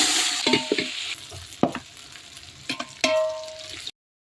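Ripe green chilies and unpeeled garlic hit hot oil for a fish curry, giving a close sizzle with a few sharp clinks and the scrape of stirring, then the sound cuts off abruptly.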